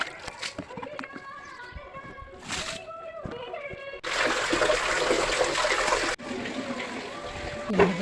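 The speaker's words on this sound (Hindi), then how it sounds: "फिर मैंने पोछे के लिए पानी भरा" Water gushes from a tap into a bucket for mopping at home, a steady loud rushing pour lasting a few seconds after some earlier clatter, with a voice talking over part of it.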